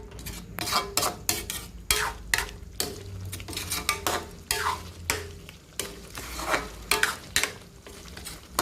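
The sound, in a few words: stirring chili and bell pepper in a pan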